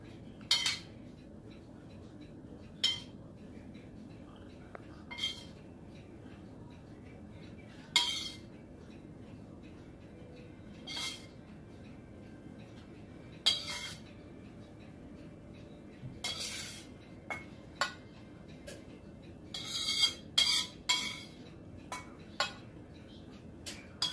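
Spooning enchilada sauce over enchiladas suizas in a dish, with a metal utensil clinking against the dish in short sharp taps, scattered and then clustered, over a quiet kitchen background.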